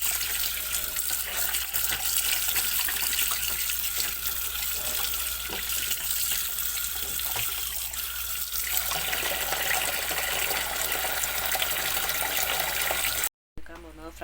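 Water runs steadily from a tap while fish is rinsed under it, a continuous splashing rush close by that cuts out briefly near the end.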